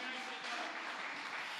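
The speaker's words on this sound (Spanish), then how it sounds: "si le vas a dar fuerte ese aplauso al Señor" A church congregation claps in steady, dense applause during a Spanish-language Christian sermon, continuous and fairly quiet throughout the short stretch.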